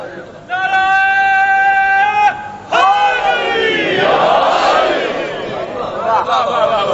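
A crowd at a religious sermon gathering chants slogans in unison: loud, sustained voiced calls in two bursts, then a rising roar of many voices that carries on to the end.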